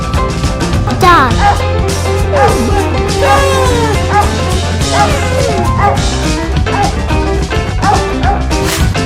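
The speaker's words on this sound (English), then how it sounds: "Dog." A cartoon dog barks and yips several times in quick bursts over a steady, loud musical backing track.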